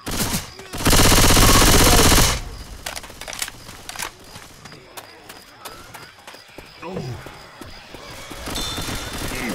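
Rapid gunfire and chaotic combat effects from the zombie shooter Left 4 Dead 2, with a loud burst early on followed by scattered shots, impacts and game noise at moderate level.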